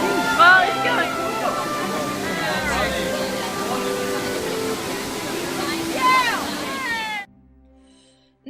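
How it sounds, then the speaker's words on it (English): Water from the Trevi Fountain in Rome rushes in a steady broad wash, with crowd babble and nearby voices over it before it cuts off near the end. "while in Rome, one must go to the beautiful Trevi Fountain and make a wish"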